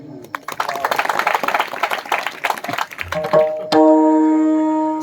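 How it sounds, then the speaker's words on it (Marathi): Audience at a kirtan for Anil Maharaj in Dharangaon Bhamberi, Telhara, Akola, breaking into a few seconds of loud, dense clapping that fades before a sustained harmonium-like tone rings out. "एकदा आमच्या महाराजांसाठी टाळी उद्या"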